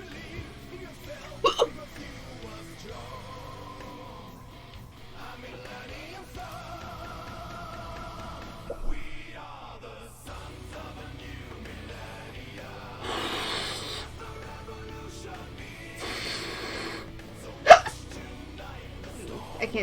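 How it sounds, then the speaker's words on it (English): A woman hiccuping, several sharp, isolated hiccups spread across a long stretch with pauses between them, close and clear, with talking and breathy sounds in between. "I can't hiccup when I blow."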